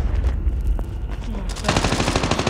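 Rapid automatic gunfire bursts in Call of Duty Mobile gameplay, loud and rattling, with a dense stretch of shots at the end.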